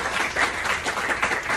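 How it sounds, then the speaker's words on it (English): Audience applause in an auditorium welcoming professors at an anaesthesiology department foundation day, a brief burst of dense clapping that stays steady throughout. "Ladies and gentlemen, please welcome with a round of applause Professor"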